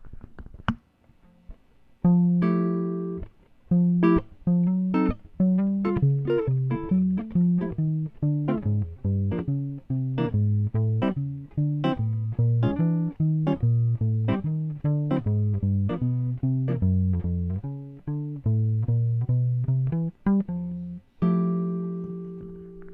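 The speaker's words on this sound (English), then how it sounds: "I'm not just playing the notes for the bass line, I'm also getting the chord in there" Jazz guitar comping that walks a bass line and slips chords in between, a steady stream of plucked notes and short chord stabs with no talking, ending on a sustained chord.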